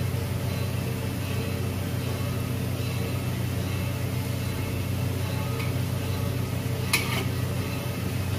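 Semolina sweets, rava gulab jamun, frying in oil, a steady close sizzle that holds evenly throughout, with a faint clink near the end and no talking.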